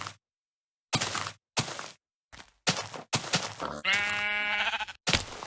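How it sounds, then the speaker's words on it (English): Minecraft sheep bleating in several short, separate bursts close by, with one longer, wavering bleat near the end and quiet gaps between the calls. "Since we do have a few sheep around here"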